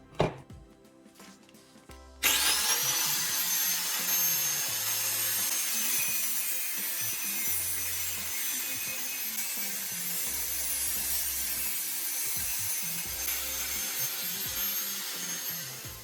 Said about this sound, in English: I take an empty WD-40 can clamp it in the vise, and carefully cut off the bottom with a grinder.